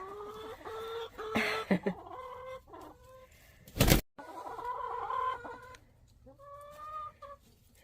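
Backyard chickens in a coop cluck and murmur close by in short bursts, several hens overlapping, with a sharp clatter midway and quieter gaps between calls.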